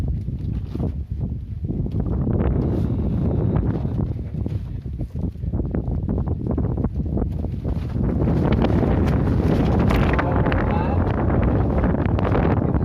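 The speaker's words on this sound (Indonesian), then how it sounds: "Yang angin gede," Strong wind buffets the microphone at a fishing spot on Jatiluhur reservoir, a continuous roaring gust over open water, with someone talking faintly underneath.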